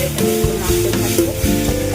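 Spiced masala frying with browned onions in a pan for chicken kosha, stirred with a spoon: steady hot sizzling broken by rhythmic scraping strokes, close and clear, with no voices.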